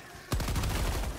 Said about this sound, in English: my own explosion killed me